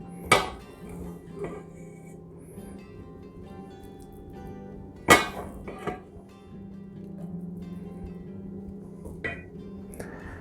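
A serving spoon scoops basmati rice out of a rice cooker, giving a few sharp, isolated knocks and clanks against the pot, separated by quiet stretches.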